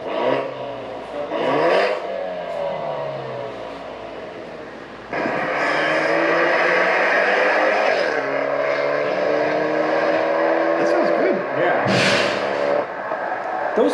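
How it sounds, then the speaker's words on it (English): Four-cylinder N20 engine in a BMW 528 revving through an aftermarket exhaust, with rising and falling pitch sweeps and a louder sustained stretch midway and a sharp blip near the end, while people talk over it. "Those four cylinders, they get a lot of hate, but the N20 and N26, they actually can sound pretty good."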